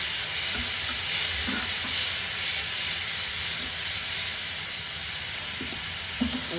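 Tomatoes sauté in a pan, giving a steady frying sizzle with occasional soft stirring scrapes and clinks, close and continuous without talk.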